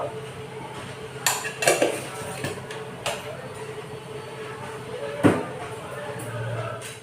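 A spoonful of cumin seeds tipped from a spice tin into a pot of water on the stove for a cumin-water drink, giving a few light metallic clinks and scrapes against a steady low kitchen hum.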